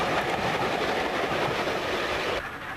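A steam train on the North Yorkshire Moors Railway rolls past with a loud, dense, continuous clatter that drops off sharply just before the end.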